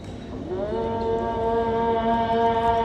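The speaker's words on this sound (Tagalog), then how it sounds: "yung naririnig nyo ay dasal na mula sa mosque kasi yung park ay malapit sa mosque" Islamic prayer call broadcast over loudspeakers from a nearby mosque, heard from a park: a sustained, wavering chanted voice that rises in pitch and holds steady, somewhat distant and reverberant, with steady ambient noise underneath.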